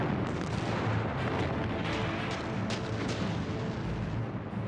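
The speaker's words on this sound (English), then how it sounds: "On the 16th of April, the biggest artillery barrage of the war commenced." A World War II artillery barrage: a dense, continuous rumble of heavy guns firing, booms overlapping into a constant roar with sharper cracks popping through.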